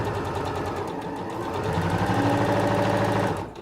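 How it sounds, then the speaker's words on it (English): Singer Professional 9100 sewing machine runs a seam, a fast steady mechanical whirring and rapid needle clatter that speeds up slightly midway and then stops, heard close and alone. "So now I'm going to sew all the way to the bottom"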